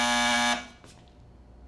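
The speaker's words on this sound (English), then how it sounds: "Dennis, if you need anything, just buzz this buzzer and I'll come running" A call buzzer gives one loud, sustained electric buzz lasting about half a second, then falls silent apart from faint room noise and a small knock.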